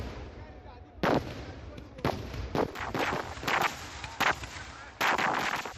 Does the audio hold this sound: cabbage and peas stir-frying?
no